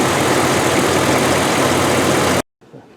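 A 2003 Bentley Arnage T engine idles steadily with its thermostat removed, a loud, even drone that runs unbroken for over two seconds before cutting off, leaving quiet room noise.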